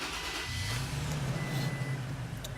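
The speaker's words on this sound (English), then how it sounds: "start the truck up." A 2016-or-newer Toyota Tacoma truck engine, started with a regular key, settles into a steady, fairly loud low idle hum right after the start, with no talking.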